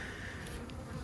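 Honey bees buzz around a small nuc beehive, a faint, steady droning hum with brief louder passes of individual bees close by.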